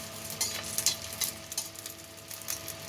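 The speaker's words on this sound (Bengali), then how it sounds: "এবার এতে দেবো গোটা জিরে, তেজপাতা, শুকনো লঙ্কা। খুব ভালোভাবে নাড়িয়ে নেব।" Whole cumin seeds, bay leaf and dried red chilies being stirred in hot oil in a pan, a steady sizzle with light scraping and clicking from the spoon, close and continuous, no voices.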